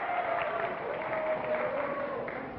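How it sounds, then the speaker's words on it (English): Steady applause from a 1964 Price Is Right studio audience, a dense wash of clapping at moderate volume and fairly distant, with a faint voice underneath. "I think by the applause"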